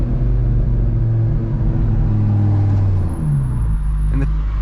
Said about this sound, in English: And the squealing of the brakes, that's part of it, it's part of the fun